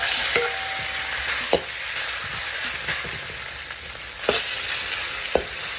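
Neutral oil sizzles in a smoking-hot wok with a dense, steady crackle, punctuated by several sharp metallic scrapes and clanks of a utensil on the wok.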